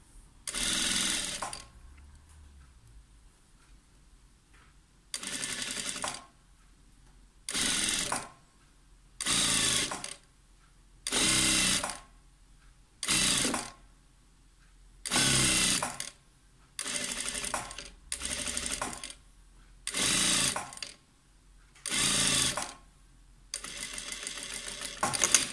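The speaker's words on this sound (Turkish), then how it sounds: "İğnelediğimiz yakamızı dikiyoruz." A sewing machine runs a straight stitch along a pinned collar in about a dozen short bursts of loud, steady whirring, separated by brief quiet pauses as the fabric is guided.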